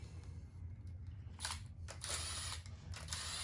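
Ratchet snugging oil pump bolts on a 1400 hp Cummins 6.7L engine, a few short quiet clicking bursts spaced irregularly over low background noise, close and faint, no talk.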